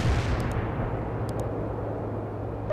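Artillery fire in the World in Conflict video game: a heavy, sustained low boom with a rumbling tail, plus a couple of brief faint clicks, and no voices.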